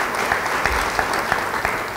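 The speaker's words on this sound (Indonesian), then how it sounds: "Yang mau beri tepuk tangan bagi dia." A church congregation applauds during a sermon, giving steady, dense clapping from many hands that fills the room at an even level for the whole moment, with no voices standing out.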